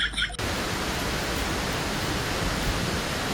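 Wachirathan Falls near Chiang Mai, Thailand, gives a dense, steady, loud roar of rushing water that fills the whole clip. There is no talking.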